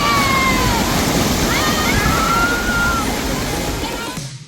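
Surf at Calangute beach in North Goa, a steady broadband wash of breaking waves filling the scene, loud and continuous with a faint whistling tone drifting above, fading slightly toward the end.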